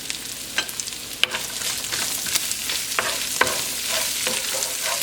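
Chorizo with diced onion, serrano and jalapeno peppers frying in a pan, a steady close sizzle with occasional crackles, pops and stirring scrapes throughout.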